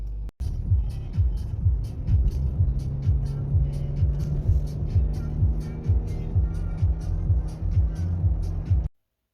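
Interior of a vehicle on a drive to a shop, with a steady low engine and road rumble and a faint rhythmic thumping throughout, ending abruptly.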